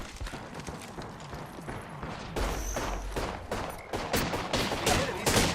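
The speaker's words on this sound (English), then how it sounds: "The enemies are shooting at me." Enemies shooting in a video game produce bursts of crackling gunfire that grow louder and denser midway, with sharp shots repeating over a busy, noisy background.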